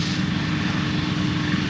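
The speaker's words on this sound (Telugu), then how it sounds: "డ్రోన్ సౌండ్ అయితే వస్తూ ఉందన్నమాట మనకి" A DJI drone flying high overhead gives a steady propeller drone with a constant buzzing hum, even and unbroken, with no speech.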